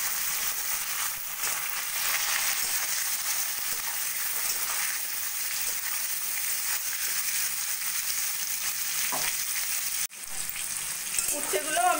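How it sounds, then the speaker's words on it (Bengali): Bitter gourd pieces frying in hot oil, a continuous close hiss and crackle with scattered spatters, a brief dip near the end and some faint clinks of stirring, no talking. "ওই তেলের মধ্যে এবার আমি উচ্ছেগুলোকেও ভেজে নেব।"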